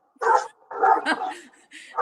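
Dog barking in a bookstore, a quick run of three or four sharp yips and barks close by in a quiet room.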